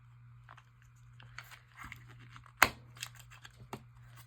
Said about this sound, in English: I'm going to cut most of it off